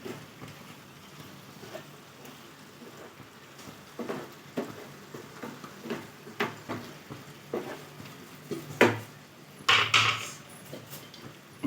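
Chicken liver fry with coriander is stirred in a pan, a quiet run of scattered scrapes and light clinks from the utensil that grow sharper and more frequent toward the end.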